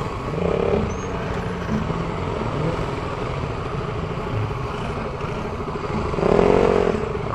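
A KTM RC 200 motorcycle engine hums steadily while riding, a continuous mid-level drone with swells near the start and end.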